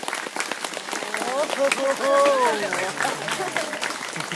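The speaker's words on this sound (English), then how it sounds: "Let's give them a round of applause." A crowd at an outdoor luminary ceremony claps and cheers, scattered applause mixed with whoops and a voice calling out over it, fairly close and lively.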